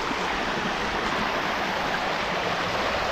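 A swollen river rushes with strong force after hill rainfall, a loud, close, unbroken roar of churning water that stays steady throughout, with no speech.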